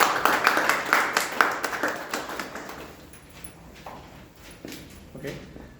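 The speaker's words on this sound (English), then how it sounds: "Let's give a round of applause for all the role players." Clapping from a club meeting audience honoring the role players, sharp claps near at first that thin out and soften into scattered taps toward the end.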